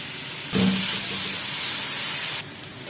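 Hot cooking oil in a kadhai breaks into a sudden loud sizzling hiss that holds steady for about two seconds, then cuts back to a quiet background.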